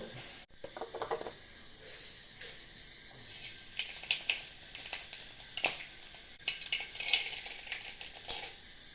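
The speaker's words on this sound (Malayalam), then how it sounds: "കടുകിട്ട് കൊടുത്തു ഒന്ന് പരിപ്പിട്ട് കൊടുത്തു പരിപ്പിട്ട് കൊടുത്തു കറിവേപ്പിലും ഉണക്കമുളകും കൂടി ഉണ്ടാകും" Tempering of mustard seeds, dal, curry leaves and dried red chillies in hot oil, a crackling, popping sizzle that swells after a quiet start, with scattered sharp spatters and pan clinks.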